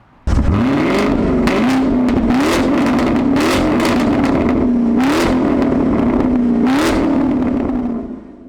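A Chevrolet Camaro SS engine starts with a roar, then revs repeatedly in about six sharp bursts over a steady, loud idle rumble.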